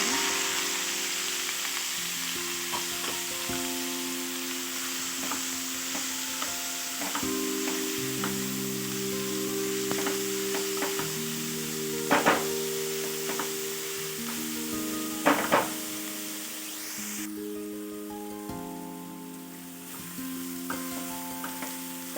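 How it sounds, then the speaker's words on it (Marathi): Finely chopped onions fry in a pan with garlic for a whole masoor dal, sizzling steadily and close by, with a few sharper crackles and spatters along the way and background music playing underneath. "कांद्याला आपल्याला ब्राऊन कलर येईपर्यंत फ्राय करून घ्यायचा आहे।"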